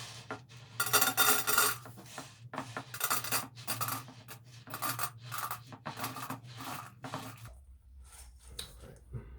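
Bully Max dry dog food is poured and clatters into a bowl in a series of close, rattling bursts of kibble hitting the dish, followed by a quieter hum.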